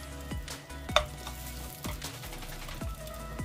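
Thin potato batter sizzles and crackles in a hot oiled frying pan, a steady close fry with a few sharp utensil clicks and light scraping over it.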